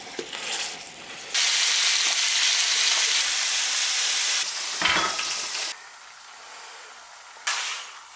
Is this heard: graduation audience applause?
no